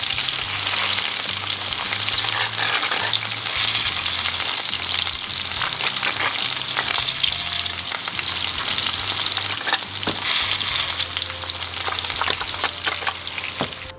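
Honey roast carrots and potatoes in a roasting tin sizzle and crackle in hot fat as they are basted, a loud, continuous frying hiss with spoon scrapes and spatters throughout, close up and with no talk.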